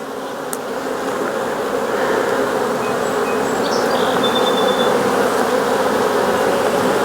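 Honeybees buzz around their hive in a steady, dense drone that swells slightly and holds close and continuous throughout, with no voices.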